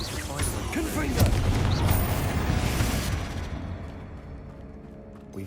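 A Confringo fire spell explodes with a heavy boom amid a Hogwarts Legacy video game battle, loud rumbling blasts that fade into a quieter tail, with voices over the action.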